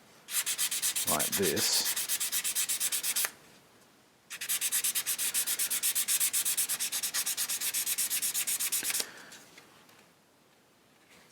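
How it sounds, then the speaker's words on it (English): Fine sandpaper rubs rhythmically against the back shell of an Accuphase LC-10A balanced audio cable, a close, steady scratchy hiss in two long runs split by a short pause, with a brief voice heard early on. "it's very fine sandpaper, just a bit of a rub"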